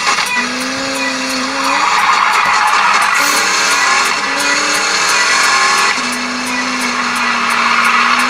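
Racing video game with a roaring race car engine and squealing, skidding tires, loud and continuous with the engine pitch rising and shifting throughout.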